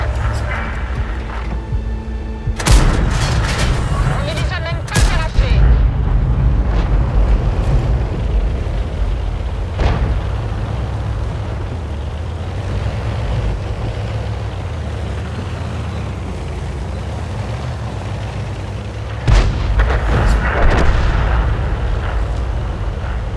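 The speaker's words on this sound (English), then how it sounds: "Enemy airstrike incoming." Enemy airstrike blasts in the war video game Frontlines land as heavy, deep booms, with sharp hits near the start, a big impact around the middle and another burst late, separated by rumbling debris and ambient battle noise.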